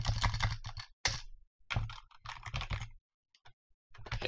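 Fast bursts of typing on a computer keyboard while entering code, dense clusters of key clicks with short pauses between them, close and fairly loud with no talking.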